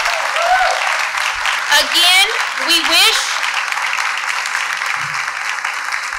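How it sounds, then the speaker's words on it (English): Applause from the audience at a 2019 Iberia Parish political candidates forum, a broad steady wash of clapping running the whole stretch, with a voice speaking over it. "How about a round of applause for our candidates?"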